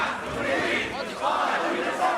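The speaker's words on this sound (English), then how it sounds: "Suddenly, he is mobbed by an angry crowd, hounded out as a crony of Hosni Mubarak." An angry crowd in Egypt yelling together, a dense roaring wall of many voices rising and falling in waves of shouting, loud and close.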